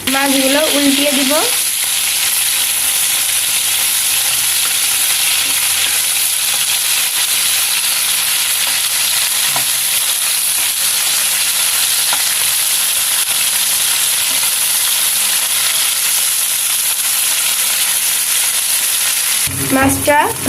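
Shrimp fish sizzle loudly and steadily in hot oil as they are turned, with spatula clatter at the start and end framing a long, even frying hiss.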